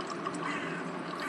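Water poured onto crops in the horror farming video game Pumpkin Panic, a brief steady splashing stream lasting about a second with no voices.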